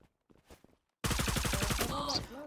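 Rapid automatic gunfire rattles in the online shooter game Zula, a loud burst of closely spaced shots that starts abruptly after a quiet moment with faint voices.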